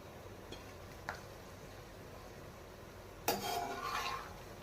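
Golden roasted coconut scraped out of a pan into a bowl, a couple of faint metal taps followed by a louder rasping scrape of a spatula, close and fairly quiet, no talk.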